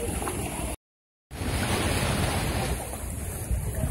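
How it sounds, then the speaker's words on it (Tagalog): Steady broadband rush of surf washing onto the shore at night, with wind buffeting the microphone; a brief silent gap near the start, no voices. "maririnig nyo lang yung alon"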